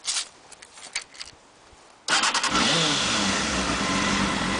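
A 2002 Honda Hornet H34 motorcycle engine cranks, catches after a couple of seconds of quieter handling noise, then settles into a loud, steady close-up idle.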